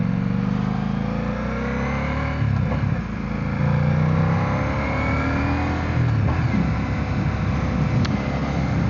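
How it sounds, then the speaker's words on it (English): A 2025 Ducati XDiavel motorcycle engine pulls hard through its stock exhaust while being ridden, giving a loud, continuous, gnarly growl with rising and falling revs and heavy wind rush, no voices. "it's just sounds gnarly, just really angry with the stock exhaust."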